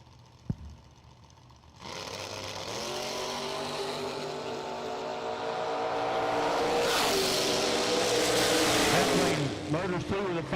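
A blue Mustang and a blue 1968 Camaro launch side by side at a radial drag race, engines building from a rumble into a loud, sustained roar that climbs higher before easing off, with a commentator talking over it.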